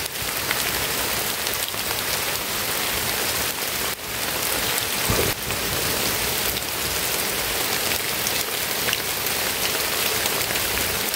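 Heavy rain falls outdoors in a dense, unbroken roar of drops striking surfaces, loud and close, holding steady throughout with a couple of brief thumps and no voices.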